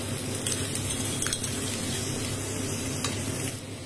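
Onions with ginger-garlic paste and a pinch of salt frying in a pan, a steady close sizzle with faint stirring clinks, no voices.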